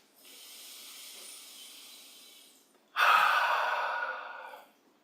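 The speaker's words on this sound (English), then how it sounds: "And we'll bring back those deep breaths again. One more time. 3 deep full breaths." Two long, deep breaths during a yoga session, the first a soft airy inhale lasting over two seconds and the second a louder, fuller exhale after a brief pause, each heard clearly alone with no talking.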